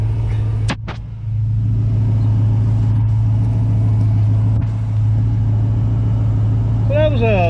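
A 1978 Buick Skylark V8 fitted with a Holley Sniper 2 fuel injection system idles nearby with a steady low rumble, broken by a brief sharp knock early on, while someone talks over it.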